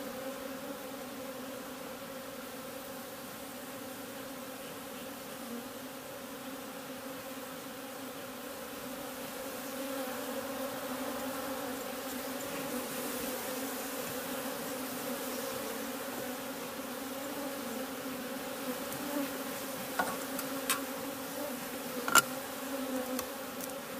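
Honeybees buzzing steadily around a hive during royal jelly production, a continuous droning hum that holds for the whole stretch, with a few faint clicks and taps near the end.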